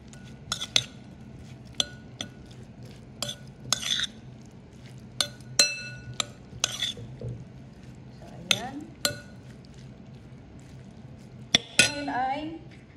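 Anchovy kinilaw stirred with pepper in a bowl: a spoon clinks and scrapes against the dish in sparse, sharp, close taps, with a soft wet squish of fish between them and a quiet room hum underneath.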